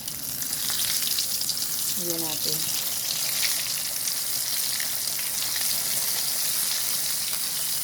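Loud, dense sizzling of chicken frying in hot oil, crackling steadily throughout, with a brief voice speaking over it early on.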